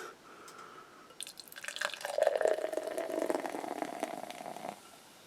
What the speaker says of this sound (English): You can just hear those bubbles sizzling up.